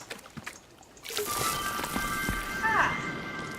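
A watering can pours over plants in the video game Wanderstop, a soft trickling splash rising after a second and running steadily, with light chimes over it.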